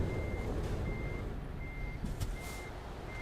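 A DAF XG+ truck in the video game TruckersMP sounds its reversing alarm, a regular series of evenly spaced beeps over a low engine rumble, moderately loud with no talking.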